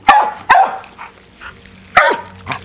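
A dog barks in sharp single woofs, about four loud, close barks spaced irregularly, with softer yips between, while playing in a water hose sprinkler.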